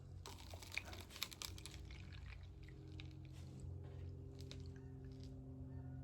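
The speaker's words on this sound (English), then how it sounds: "Obviously getting a little bit of the dirt poured out too." Water poured out of a container holding waxed dirt, with some of the dry dirt sliding out too; a steady close splashing pour with soft wet squishes and scattered ticks, running throughout and alone.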